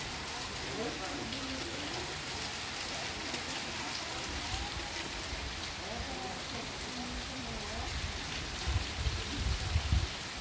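Steady rain falling in Bahia, Brazil, a dense even hiss of drops on surfaces throughout, with some low rumbling thumps near the end.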